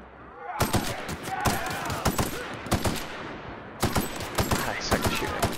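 Rapid bursts of gunfire in the video game The Outer Worlds, sharp repeated shots in clustered volleys with short pauses between them, loud and close throughout.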